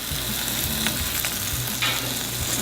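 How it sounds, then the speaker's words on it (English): Shrimp sizzle steadily in a skillet with chorizo and olive oil, a close, continuous hiss of frying broken by a few soft stirring scrapes, with faint low background tones. "After our chorizo is done, I'm gonna add my shrimp"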